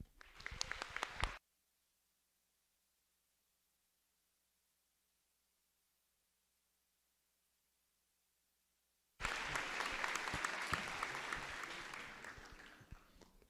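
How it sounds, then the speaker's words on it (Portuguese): Audience applause at the opening ceremony of a law students' week at a Brazilian university faculty, as a speaker welcomes the faculty's director: a short loud burst of clapping, a long silent gap, then a sustained dense round of clapping that slowly fades. "pedir para que vocês todos desse uma salva de palmas ao diretor desta faculdade, Dr. Rossi"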